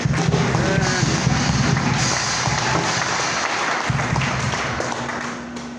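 A church congregation claps loudly and steadily throughout an evangelical Sunday service, a dense wash of applause with murmured voices mixed in, fading slightly toward the end.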